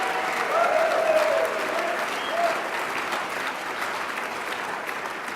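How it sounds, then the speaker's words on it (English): A large crowd at a gala applauds four honorees, a full, steady wash of clapping with a few brief cheers early on, holding fairly even before easing slightly. "Let's give all 4 of them a round of applause."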